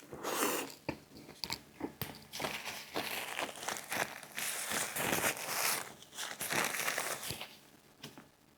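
Close-up crunchy biting and chewing of Jack in the Box hot honey spicy strips dipped in buttermilk ranch, with repeated loud crisp crunches and wet mastication in uneven rhythm, alongside occasional rustling.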